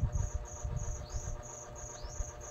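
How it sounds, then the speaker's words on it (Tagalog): A cricket chirps steadily in short, evenly spaced trills over a low rumbling background, moderately close and fairly faint. "Nag-iingay ang kuliglig."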